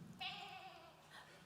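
Adults imitating a goat's bleat in a church service: one short, nasal "bah" called out together, fairly faint and distant, followed by a brief second voice.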